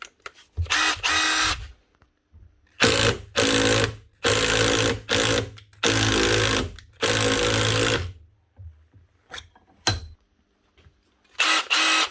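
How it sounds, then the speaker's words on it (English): A repaired Makita DTD155 18V cordless impact driver, clamped in a vise, runs in several rapid hammering bursts of one to two seconds each with short silent gaps between them, loud and close. "Just stick her in the vise here and make sure she actually impacts."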